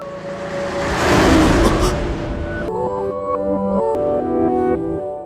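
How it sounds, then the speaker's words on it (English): A speeding car approaches and roars past in a rising, swelling engine rush, followed by tonal musical notes as the sound fades. "Crossing the street inattentively, she doesn't notice a speeding car coming and Yuta tries to help."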